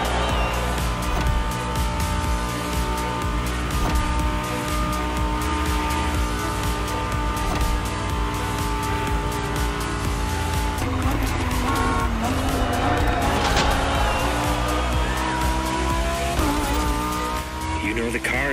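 A Liberty Walk customized Lamborghini Huracan Performante races in The Crew Motorfest, its engine roaring loud and continuous with tire squeal and shifting revs over a backing music bed.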